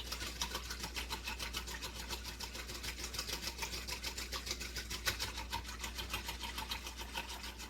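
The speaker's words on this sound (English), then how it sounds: "So I'm going to try to whisk this as much as I can." Rapid, steady whisking of a separating oil and aloe hand sanitizer mixture in a bowl, a fast even clicking rhythm with a constant low hum underneath and no talking.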